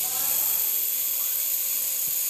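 An S107G remote-control toy helicopter flies close by, its small rotor giving a steady high-pitched whine that holds at a constant level throughout.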